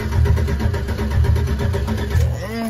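A 2007 Chevrolet Silverado engine runs loud and close through its muffler, a rough rumbling idle that pulses in uneven surges before easing off near the end.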